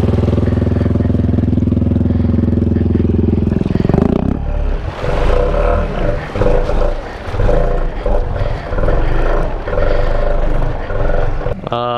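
An off-road vehicle's engine runs loud and steady, then surges and splashes as it pushes through deep water, with clattering and sloshing over the rumbling motor and voices speaking now and then.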